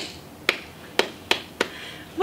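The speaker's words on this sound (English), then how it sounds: "Let's clap our hands." Four crisp hand claps at a Mother Goose story time session for young children, sharp and irregularly spaced, with a voice starting just at the end.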